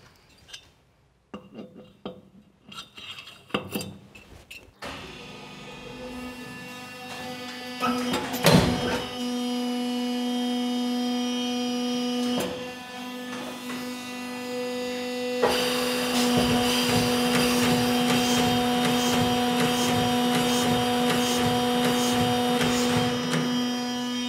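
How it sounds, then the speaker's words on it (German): A honing machine grinding the cylinder bore of a Simson engine starts up with a few clunks, then settles into a steady grinding whir that grows louder and harsher partway through. "Jetzt spannen wir ihn auf die Hohnmaschine"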